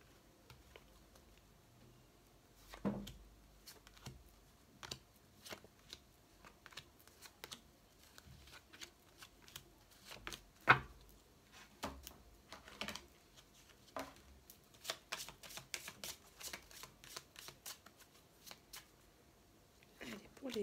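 Tarot cards are shuffled and laid out one by one during a reading. The cards give a scattered series of soft flicks, slaps and rustles, some in quick clusters, close and fairly quiet with gaps between them.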